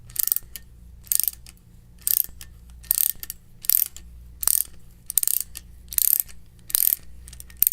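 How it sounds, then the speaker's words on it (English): Uniweld flaring tool's feed screw turned to retract the flaring cone, a close series of quick ratcheting clicks in regular short bursts about every half second, crisp and clear over a low hum. "fully retract the flaring cone by rotating the feed screw"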